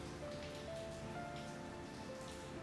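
Steady rain falls continuously in the Cafe Enchante video game, a soft, even patter with no pauses, fairly quiet and alone.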